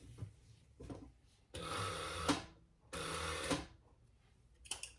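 A sewing machine stitches the seam of a crossbody bag in two loud bursts of about a second each, separated by quiet pauses with light handling noises, close by and with no talking.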